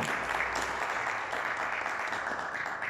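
A church congregation applauds, a dense, sustained wash of many hands clapping together, steady and fairly loud throughout, with no clear voice above it.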